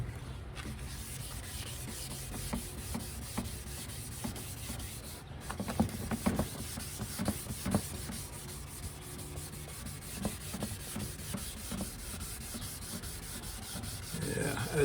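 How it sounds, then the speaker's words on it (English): Hand sanding of a car headlight lens with 600 and 1500 grit sandpaper, a continuous close rasping rub with steady back-and-forth strokes, no talk. "You can feel the difference when you're sanding between the 600 and the 1500."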